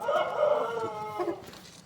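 A rooster crows once nearby, a harmonic, drawn-out call that fades at the end.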